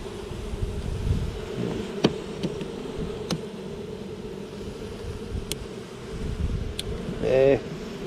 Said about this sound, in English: Busy little bees.